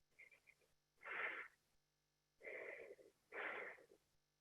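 A person quietly imitates the breathing of someone settling into sleep with a few soft, airy breaths. There are light puffs, then three longer, slow inhales and exhales with pauses between them.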